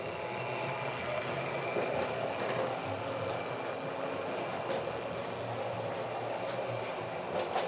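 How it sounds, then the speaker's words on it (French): A train rumbles steadily nearby, a continuous broadband roar of rolling wagons with faint rhythmic clatter throughout, no voices. "Il y a même des trains."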